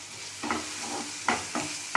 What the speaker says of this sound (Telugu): దాన్ని కొంచెం బాగా ఫ్రై చేసుకోవాలి. సో ఈ టైంలో కొంచెం క్యాప్సికమ్ ముక్కలు వేసుకున్నాం